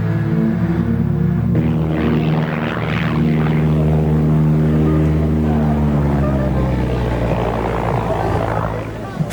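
An airliner on a runway in snow, ice and fog, skidding off the runway's end, gives a loud, steady engine drone with a layered harmonic hum that holds throughout.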